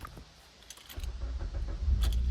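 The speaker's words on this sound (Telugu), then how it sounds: "సింగిల్ సెల్ఫ్లో అయితే బండి స్టార్ట్ అవుతుంది." A 2014 Maruti Swift VXI petrol hatchback with 53,000 km starts on a single crank, a faint key jingle followed by the engine catching and settling into a close, steady low idle.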